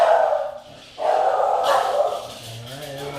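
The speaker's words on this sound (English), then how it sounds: "Alright, there's my dog barking." A pet dog in the home barks and yips intermittently, fairly loud and close, with a brief whimpering tone, with no talk over it.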